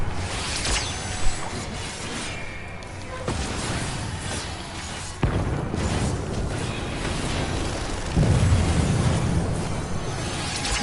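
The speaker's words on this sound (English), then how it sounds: "Whoa, I'm hearing explosions." Explosions rumble through a Final Fantasy XIV battle at Doma Castle, a steady loud roar of blasts and bursts with a sharp pop near the start and a heavier boom toward the end.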